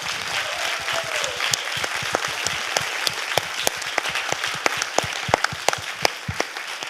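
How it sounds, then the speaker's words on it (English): Audience applauding panelists Gaylene and Natalie at a leadership event, a room of sustained clapping with distinct close hand claps standing out, steady throughout with no talking. "So I just want to give a final round of applause for Gaylene and Natalie."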